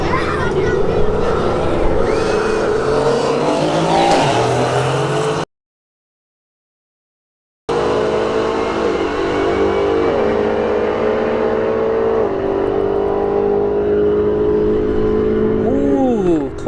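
At a drag strip, a T-Rex 50 and an AMG C63S race side by side, their engines revving hard through rising and falling gear-change sweeps, loud and close, cut by a brief silent gap before a second long pull.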